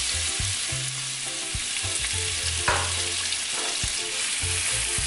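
Shrimp fry with fresh garlic, kosher salt and black pepper in olive oil over medium heat, a loud continuous sizzle with frequent scraping stirs and clinks, close up and uninterrupted by talk.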